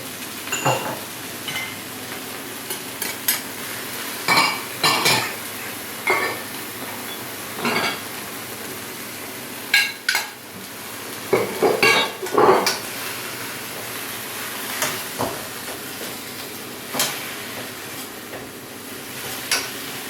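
A utensil scrapes and clinks against a pan over steady frying noise, with irregular stirring strokes repeating throughout.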